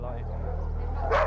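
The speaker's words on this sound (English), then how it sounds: "he quickly discovers dozens of dogs he suspects are being kept purely for profit" Many dogs kept at a breeding premises bark and whimper in a steady, noisy background, with one sharper yip near the end; no words are spoken.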